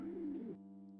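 A bird coos in a puzzle video game, a soft warbling call lasting about half a second, then a sustained tonal hum for the rest.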